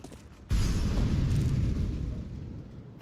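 A grenade or flashbang goes off in a tactical shooter game, a sudden loud blast after brief quiet, followed by a sustained roaring rumble that slowly tapers over a couple of seconds.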